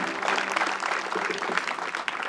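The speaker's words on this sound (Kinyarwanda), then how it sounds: "mwakomeye Imana amashyi menshi kiyakwiri" A church congregation claps for an arriving pastor, steady dense applause from a crowd that holds at an even level, with no talk over it.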